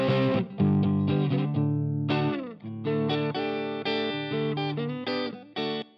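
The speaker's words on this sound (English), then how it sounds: "to old-school bluesy distortion." Electric guitar run through a Pro Tools Vintage Crunch amp simulator modeled on a 1950s Fender Tweed-style amp, playing bluesy distorted chords and notes in bursts with short gaps, loud and close, no talking.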